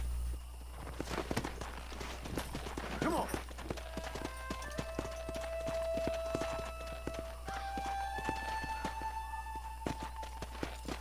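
Horse hooves in Red Dead Redemption clop steadily at a walk across the whole stretch, close and fairly clear over game ambience and a low hum.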